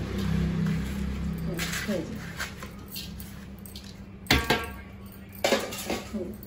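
Sesame seeds poured and mixed by hand for Telangana sakinalu: a soft rustle of seeds, then a few sharper clinks and scrapes against a vessel, close-up, under someone speaking.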